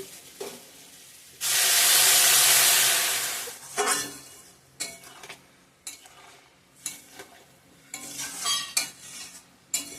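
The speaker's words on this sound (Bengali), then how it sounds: "মশলা সঙ্গে চেপিয়ে জলটা দিয়ে দেবো এখন" Water poured into hot fried spices in a pan bursts into a loud, steady hiss for about two seconds, then fades to quieter sizzling broken by clinks and scrapes of a spoon stirring.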